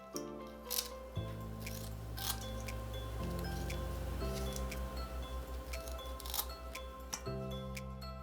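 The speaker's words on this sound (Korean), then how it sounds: "아가미도 가위로 잘라낸다" Kitchen scissors snip the fins and gills off a dried pollock (kodari). Sharp, close clicks and cuts repeat at an irregular pace over a steady low background hum.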